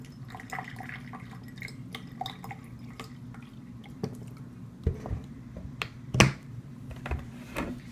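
Water poured into a cup already holding corn syrup, trickling and dripping softly with small splashes, one sharper splash near the end, faint and close with no talk.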